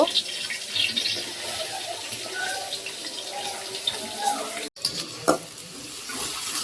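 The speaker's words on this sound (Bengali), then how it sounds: "পেঁয়াজটাকে আর কি ভেজে নিতেছি" Onions fry in hot oil in a home kitchen ahead of a beef roast, a continuous close hiss and crackle broken by a few scattered clinks of a utensil.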